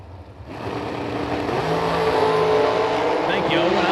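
Power chassis dragsters at a drag race, engines roaring up and building in intensity as the cars launch and pull away, with an announcer talking over the noise.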